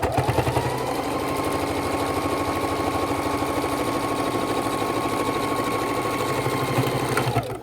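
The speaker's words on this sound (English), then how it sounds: "I'm going to stitch right across it because I want to know where that is" A sewing machine runs steadily, stitching straight across the fabric of a DIY travel neck wallet. The motor whirs loud and close with a fast, even needle rhythm for several seconds, then winds down at the end.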